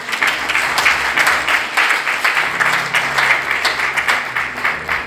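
A church congregation at a French-speaking service claps and applauds to acclaim the Lord, a loud, sustained wave of many hands with an uneven rhythm that lasts throughout.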